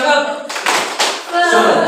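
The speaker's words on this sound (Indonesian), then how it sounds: "Ayo, tepuk semangat" A class gives a few sharp bursts of rhythmic group clapping in quick succession, loud and close, with voices calling out a chant around them.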